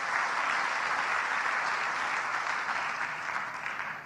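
A church congregation breaks into loud, sustained applause that fills the sanctuary for several seconds, dense and steady before tapering slightly toward the end.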